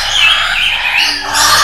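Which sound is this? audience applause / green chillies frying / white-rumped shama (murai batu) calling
white-rumped shama (murai batu) calling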